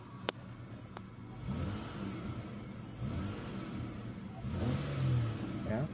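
A 2005 Mitsubishi Galant sedan engine revs up from a steady idle, with the mid-range drone swelling louder and rising toward the end. A couple of sharp clicks sound early, and there is no talk.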